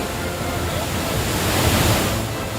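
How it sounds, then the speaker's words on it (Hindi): Floodwater from heavy rain in Chitrakoot gushes down the stairs of an ashram, a steady, loud broadband roar of rushing water that stays close and unbroken throughout, with no voices over it. "पानी सीढ़ियों से होता हुआ आश्रम के निचले हिस्से में चला गया।"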